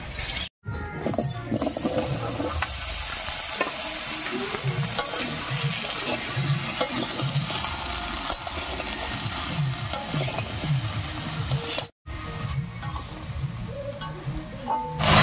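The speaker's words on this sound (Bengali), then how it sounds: "মাছ ভাজা তেলের মধ্যে লাউটা দিয়ে একটু নাড়িয়ে নিয়েছি" Steady loud sizzling of bottle gourd frying in leftover fish-frying oil, with scraping and stirring throughout and one short break in the sound.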